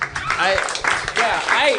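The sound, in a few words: audience applause at live podcast show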